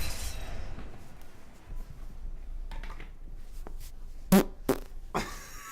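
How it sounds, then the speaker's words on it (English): A person coughs in a hot room: a few short, sharp bursts come close together, one noticeably harsher and louder, set against a quiet, slightly rumbling background with no talking. "No, it was me coughing."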